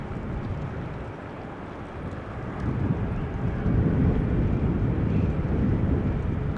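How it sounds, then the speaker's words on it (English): A Finnair airliner taxis to runway 24 at Amsterdam Schiphol Airport, its engines giving a steady broadband roar heard from a distance that swells a little louder partway through, with no voices. "It is taxiing to runway 24."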